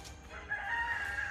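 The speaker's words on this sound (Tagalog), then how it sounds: "Ingay na naman ang manok." A rooster crows once, fairly distant and thin, its call rising and held briefly over faint outdoor background noise.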